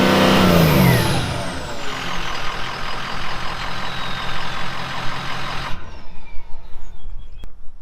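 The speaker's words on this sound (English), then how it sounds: "We're going to fire this truck up and see what a redneck exhaust system on a truck sounds like" Ford 6.0 Powerstroke diesel truck on its factory exhaust, a loud rev that falls away into a steady deep rumbling idle, then cuts off abruptly near the end.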